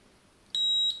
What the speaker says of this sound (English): So they'll beep when you touch your probes together,